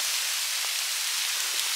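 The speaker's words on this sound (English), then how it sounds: "It actually is hail, I can see it on your coat." Hail falls outdoors on Exmoor, a constant bright hiss of pellets striking coats and ground close by, with a few faint taps poking through the steady wash and no talking.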